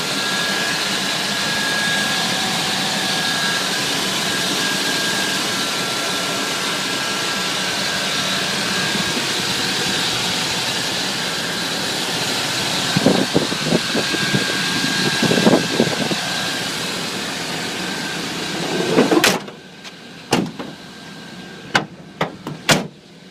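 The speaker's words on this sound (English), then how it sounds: "Engine runs very smooth." A Chevy Silverado pickup truck engine runs with a smooth, steady idle hum; toward the end, a few sharp clanks and knocks cut in.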